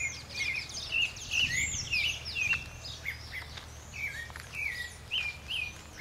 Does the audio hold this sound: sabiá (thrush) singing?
yes